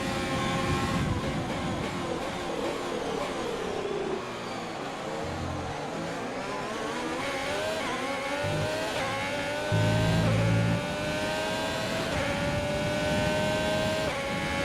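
A Haas Formula 1 car's engine in the F1 2020 racing game at Bahrain screams on the final lap, rising and falling with gear shifts and acceleration for a continuous, fairly loud whine.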